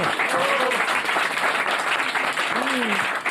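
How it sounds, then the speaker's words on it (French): Steady applause from an audience fills the whole moment, dense and continuous, with a few faint whistles rising over the clapping. "On peut l'applaudir."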